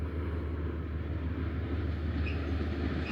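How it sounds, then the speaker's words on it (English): A train rumbles steadily along railroad tracks beside a disused power plant in New York, a continuous loud low roar with no voices. "And the train is right on time."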